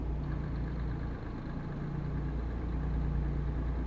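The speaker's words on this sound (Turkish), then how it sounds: "arada bir motor sesi ve garıl garıl çalışıyor arkada" A steady, low engine rumble idles continuously, the Tourismo 16 bus motor droning evenly throughout with no voices, in Euro Truck Simulator 2.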